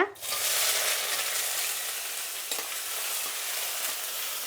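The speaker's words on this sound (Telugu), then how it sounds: "ఇప్పుడు కొద్దిగా సోంపు, అలాగే బిర్యానీ ఆకు, కల్పాసి, లవంగాలు, ఇప్పుడు ఎర్రగడ్డ" Sliced onion frying in hot oil with fennel seeds, bay leaf, stone flower and cloves, a steady close broadband sizzle with light stirring scrapes throughout, no talking.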